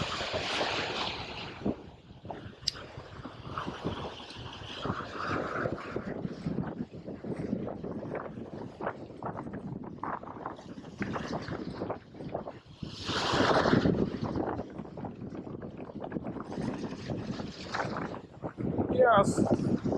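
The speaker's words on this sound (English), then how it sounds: "We have nearly 15 miles per hour wind from that direction, and we have the big waves." Strong wind of nearly 15 miles per hour roars against the microphone at a fishing jetty while big waves surge and crash, with a loud, continuous rush swelling in gusts throughout and voices faintly under it.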